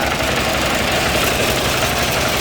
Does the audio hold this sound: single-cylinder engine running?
yes